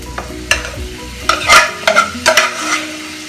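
A spoon stirs banana flower thoran with copra in a pan, making several sharp scraping clatters over a light sizzle.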